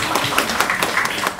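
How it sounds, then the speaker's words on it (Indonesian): Applause for a regional health department's staff at an indoor gathering, a dense, steady patter of many hands clapping together at moderate loudness for a brief burst. "Tepuk tangan untuk dinas kesehatan"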